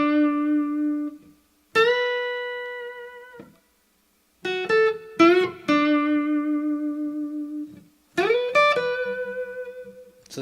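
Fender Stratocaster electric guitar playing solo licks: sustained bent notes and quick phrases in several bursts separated by short silences, loud and close with no talking.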